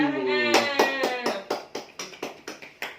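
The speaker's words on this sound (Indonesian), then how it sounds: "Oke, tepuk tangan untuk kelompok 1." Scattered claps from a small group after a handwashing-with-soap session, a run of about ten sharp, irregular hits that follow a brief spoken phrase and fade slightly toward the end.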